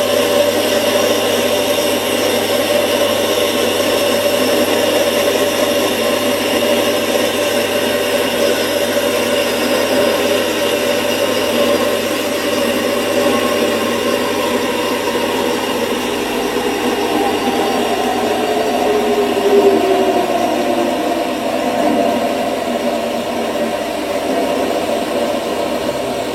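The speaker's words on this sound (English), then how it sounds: "I can just get in there with my parting tool to take it off this larger diameter" A lathe parting tool parts off a metal workpiece from a larger diameter, a steady loud machine whine and hum with a faint tone that gradually falls as the cut goes deeper.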